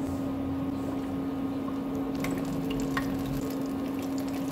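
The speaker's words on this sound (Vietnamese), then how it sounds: "Bây giờ chảo dầu cũng đã sôi rồi, mình cho cái phần khoai lang cho mình chiên." Sweet potato pieces deep frying in a pan of hot oil on a stove set above medium heat, a steady dense sizzle and bubbling hiss with a few faint clicks, close and even throughout, no talk.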